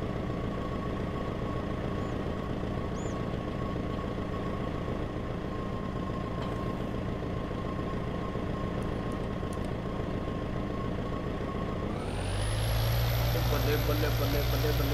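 A Belarus tractor fitted with a V6 engine in Farming Simulator 22 runs with a steady, droning hum for a long stretch, then grows louder and rougher near the end as the engine works harder.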